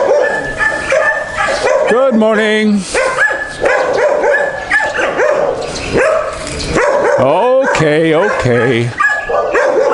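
Several dogs bark and yip repeatedly in a Philippine neighborhood. They sound close and loud, with yelps that rise in pitch. A person speaks briefly in between.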